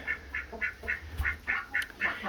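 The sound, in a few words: ducks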